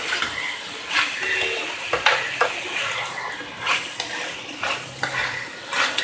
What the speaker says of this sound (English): Give this a good mix. Let all the veggies get coated with this sauce.